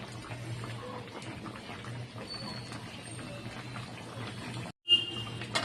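Hilsa fish curry simmers in a pan with slit green chillies, giving a steady soft bubbling and sizzling hiss throughout, broken by a brief pause near the end before the bubbling resumes.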